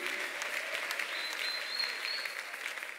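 A church congregation at a Sunday service applauds, a steady dense wash of clapping from many hands that holds evenly throughout, with faint voices mixed in.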